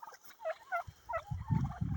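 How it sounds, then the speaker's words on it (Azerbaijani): American Bronze turkeys gobbling on a farm flock, several rapid warbling gobbles in quick succession, close and fairly loud, with some low rustling and movement beneath. "Hündüşkalar Amerika bronzlarıdır."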